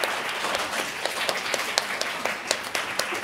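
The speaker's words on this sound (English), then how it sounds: "I'd just like to give them a round of applause for being up here." Scattered applause from a small audience at a school Model UN closing ceremony, a few distinct claps standing out over a soft, steady patter.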